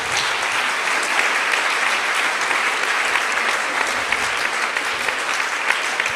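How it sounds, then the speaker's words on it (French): A large audience gives Jean-François Castel a loud, sustained round of applause at the closing speech of the JNE in Arles, a dense, even roar of clapping with no talk over it. "je pense qu'on peut l'applaudir"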